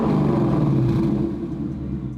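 A 2018-2023 Mustang with a Borla stainless steel active ATAK cat-back exhaust in track mode, giving a loud, deep, continuous engine rumble that holds steady and eases slightly toward the end.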